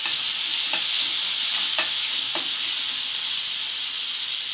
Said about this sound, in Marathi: आणि चांगलं 1 मिनिट हलवून घ्यायचं, चांगलं भाजून घ्यायचं मस्त असं.